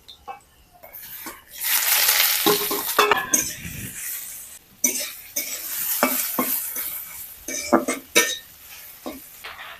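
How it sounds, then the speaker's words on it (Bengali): Radish pieces dropped into hot oil with fried green chilli and chopped ginger, a broad steady sizzle with repeated scraping stirs and spatula knocks against the pan, loud and close with no talk. "মশলাটা ভাজা হয়ে গেছে, এবার আমি মূলোটা দিয়ে দিচ্ছি"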